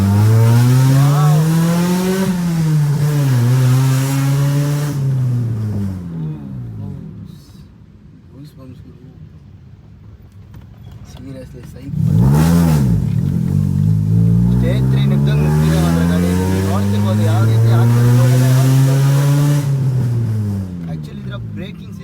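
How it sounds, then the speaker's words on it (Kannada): Toyota Supra launched hard in first gear, the engine roaring up through rising revs, dropping back, then surging again in a second loud climb; a voice talks briefly during the quieter gap. "ಫಸ್ಟ್ ಗಿಯರ್ ಲಾಂಚ್ ಮಾಡ್ತೀನಿ ನೋಡಿ ಯಾವ ರೀತಿ ಗಾಡಿ ಯಾವ ರೀತಿ ಪಿಕಪ್ ಕೊಡುತ್ತೆ"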